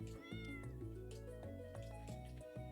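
A cat in the Stardew Valley farming game meows repeatedly in short, clear cries over steady background game music, with no talking.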